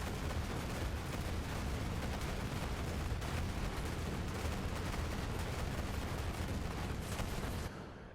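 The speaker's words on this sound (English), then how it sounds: "Your clone will basically just keep throwing out loads and loads of these grenades." Rapid, continuous grenade blasts from a clone in the Borderlands 3 video game, one dense unbroken barrage of gunfire-like bursts and explosions, loud and steady throughout before cutting off near the end.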